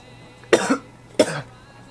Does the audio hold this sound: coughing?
yes